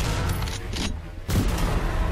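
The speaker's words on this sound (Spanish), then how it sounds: "Mira, escopeta de corredera" A pump-action shotgun fires in the demon-slaying video game Dread Templar, with loud, dense blasts and booms filling the short burst and a brief dip in the middle.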